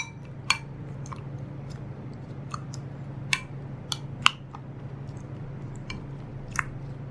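Spoon stirring cucumber and tomato raita in a bowl, soft irregular clinks and wet squishy taps spaced a second or so apart over a steady low hum, no talking.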